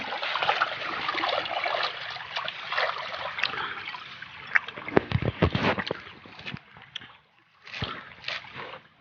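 Dishes scrubbed by hand with a coconut husk and plain water, no soap, outdoors after rain; steady sloshing and trickling water with scraping and clattering dish knocks, louder in the middle, then quieter bursts.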